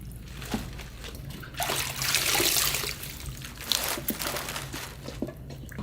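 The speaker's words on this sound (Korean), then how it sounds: "그냥 이렇게 해서 한 번만 슬쩍 물에다 씻으세요." Young napa cabbage being rinsed briefly by hand in a basin of water, giving close, steady trickling and splashing with soft crinkling of the leaves throughout.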